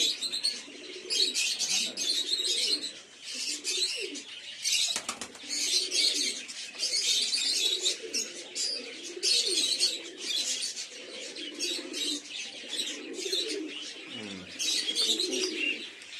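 Kakji pigeons coo and flutter in a loft during rain, with soft low coos repeating under dense chirping and wing flapping, plus a sharp knock partway through.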